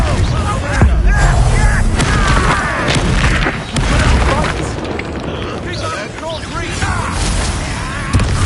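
Confringo fire spell explosions in the game Hogwarts Legacy, with loud booming blasts and rumbling combat noise packed throughout, while voices shout over the fighting.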